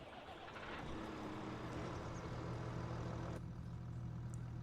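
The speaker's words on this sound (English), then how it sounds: "So this is a cool tractor. It's going to have a different sound." A Kubota tractor engine idles in the Farming Simulator 22 video game, a steady low rumble with a deep resonant hum that runs continuously and evenly with no talking.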